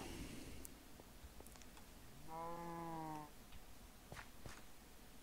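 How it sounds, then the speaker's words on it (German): A single sheep bleats in the Minecraft video game, one short wavering baa in the middle of a quiet, faint background. "Schafe."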